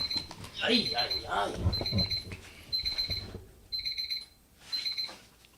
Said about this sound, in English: We got an alarm going off right now.